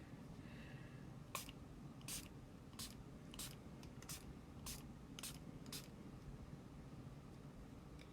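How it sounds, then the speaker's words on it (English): A small dollar-store spritz bottle fires about nine quick sharp mist sprays in an irregular rhythm, close and crisp, over a low steady background hum with no talking. "we are going to use my spritz bottle."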